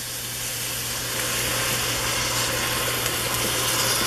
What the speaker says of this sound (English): add just a touch of the stock. It's going to sizzle like crazy